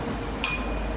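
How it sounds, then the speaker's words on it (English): A single glass clinked once, giving a bright ringing ping that sustains and fades over a quiet background. "let's take some audio from this glass."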